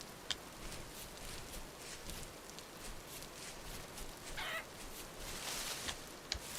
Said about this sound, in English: Oh, I hear chickens.